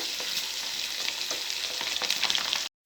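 Mustard seeds, cumin and garlic sizzle in hot oil in a pan on a gas stove for a Karnataka churumuri snack, a steady close crackling hiss with small pops and stirring scrapes, no talking.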